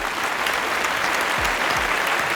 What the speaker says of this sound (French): bravo, je t'applaudis